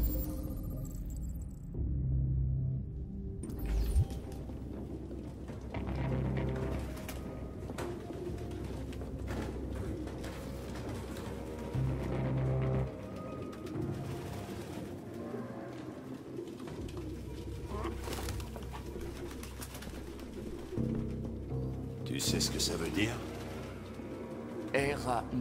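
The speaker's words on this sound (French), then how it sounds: "Aucun humain ne pourrait vivre avec autant de pigeons." Pigeons coo repeatedly in the game Detroit: Become Human, a crowded flock in an android's rooftop hideout, soft throaty rolling calls layered over a low rumble, with talk over them.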